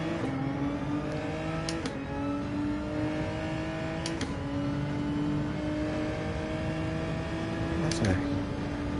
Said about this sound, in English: That's a pretty unique sounding car.